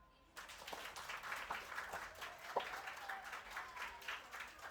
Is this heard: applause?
yes